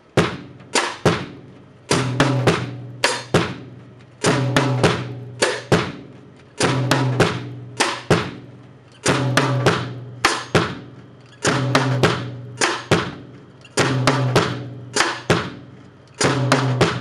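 Drum kit playing a mambo groove, rim shots imitating a clave against a left-hand tom part imitating a conga, in a steady repeating pattern of sharp clustered hits with short ringing decays, close and alone.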